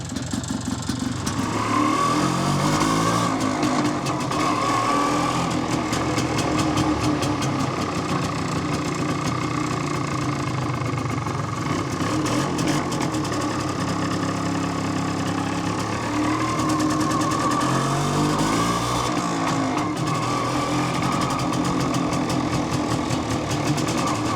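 An old MZ motorcycle engine, restarted after 20-25 years unused, runs steadily at idle with a loud, continuous mechanical rumble and rapid ticking, no voices.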